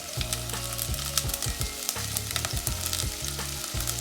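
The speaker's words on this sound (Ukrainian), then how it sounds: "І обжарюю. У мене обжарилась морква з цибулькою." Onion, carrot and hot pepper fry in oil in a pan with a close, crackling sizzle. Rhythmic scraping stir strokes repeat throughout, and no voice is heard.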